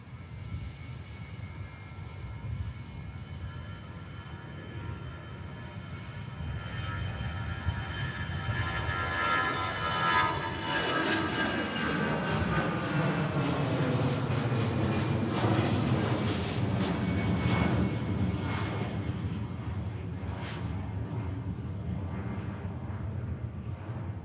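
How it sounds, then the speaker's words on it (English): An Airbus A380 airliner takes off at Manchester Airport with a loud, rumbling jet roar. The roar swells and sweeps in pitch as the aircraft passes, then stays powerful throughout, with no voices over it. "Off goes the Airbus A380 with EasyJet."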